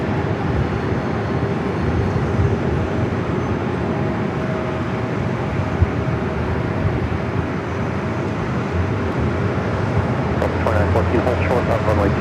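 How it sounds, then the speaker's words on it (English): An Avianca Airbus A330 airliner taxiing toward runway 24 left at LAX, a steady loud broadband jet roar with a low hum, continuous throughout with some faint high clicks near the end. "Avianca A330 and finally heading over there to 24 left."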